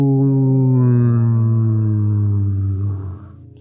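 A person hums a sustained, steady 'ooh' tone as part of a breathing exercise, a single long voiced note that holds evenly for about three seconds and then fades out.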